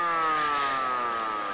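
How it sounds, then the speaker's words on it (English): A siren that sounds like a building fire alarm wails steadily and loudly on its own, a sustained tone slowly sliding downward in pitch. "That is not the right siren. That sounds like a project building fire alarm"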